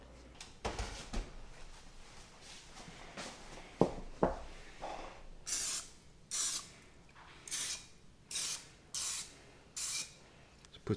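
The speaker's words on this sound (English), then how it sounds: "put a little bit of oil in this thing" Oil is sprayed into a bread loaf pan in a home kitchen, a run of about seven short hissing bursts in an even rhythm, close and clear, following a few light knocks and handling noises.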